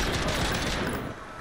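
Gunfire from a CR-56 AMAX (Galil) rifle in a shooter video game rips through a wall in a dense, continuous burst of rapid shots that stays loud the whole time.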